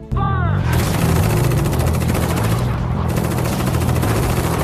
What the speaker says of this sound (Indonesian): Tak lama kemudian para prajurit itu melepaskan tembakan kepada Eileen.